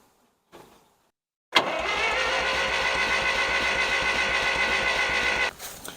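A 1960s John Deere 1010 tractor engine, sitting for 18 years, cranks over with a sharp start and a steady rapid chugging rhythm for about four seconds before stopping, after a faint earlier click.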